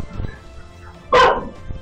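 Dogs at an animal shelter bark in a sudden loud burst of several yips and barks midway through, with quieter rustling and faint distant barks before and after.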